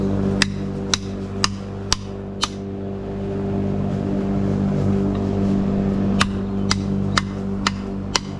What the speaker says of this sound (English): As you hammer it from the back, you'll see it actually starts going through